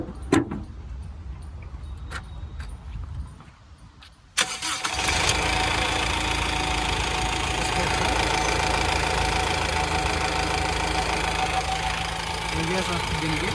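A 2015 Honda Mobilio car engine cranks over and starts about four seconds in, then settles into a steady, loud idle that runs to the end, with quieter activity and clicks before the start.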